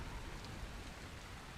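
Steady rain falling at night in the video game Dying Light, heard as an even, dense hiss of rainfall on surfaces with no breaks and no speech.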